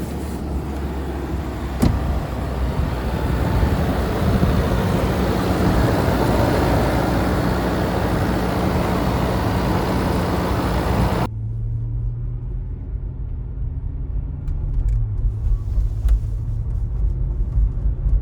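The 5.0L V8 of a 2011 Land Rover LR4 runs steadily after starting, a loud even rumble at first that then drops to a quieter, lower idle.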